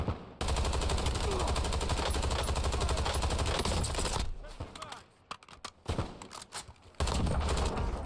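Sustained automatic AK rifle fire in the shooter game Warzone, a dense rapid stream of loud shots for about four seconds, then scattered bursts and gaps before heavy firing resumes near the end; a voice may be faintly underneath.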